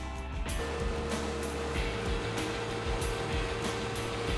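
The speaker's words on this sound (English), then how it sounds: "so I take this in 2 cuts at the router table" A router table cuts a half-inch-deep groove for aluminum T-track in a wooden board, its motor a loud, steady, close whine that stays even across the whole pass with a slight change in tone early on.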